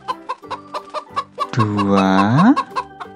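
Chickens clucking in a garden in a series of short, evenly spaced calls, then a louder sustained rooster-like crow in the middle, with a voice counting in between.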